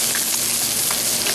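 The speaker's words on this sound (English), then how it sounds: "I'm going to add my diced tomatoes." Diced tomatoes hit a hot pan of garlic for a sable fish dish, producing a brief, loud, dense sizzle close by.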